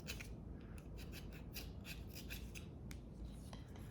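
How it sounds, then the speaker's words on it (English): Carbon scraped off a Ford 302 engine part, a continuous close raspy rubbing and scratching with rapid strokes and faint crisp ticks throughout, no talking. "Just scrape away any carbon"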